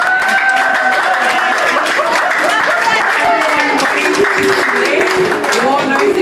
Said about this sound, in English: please, a big, massive round of applause